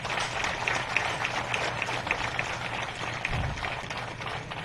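Crowd at a youth baseball field applauds the grounds crew of Troy Parks and Recreation, steady outdoor clapping and cheering held at moderate level throughout, with no talk over it.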